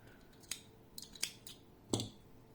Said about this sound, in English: cutting the yarn